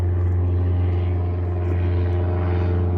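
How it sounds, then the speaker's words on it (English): Airplane flying overhead: a steady, loud low engine drone with a rough propeller-like hum that holds constant throughout, with no talk. "Airplane, always airplanes."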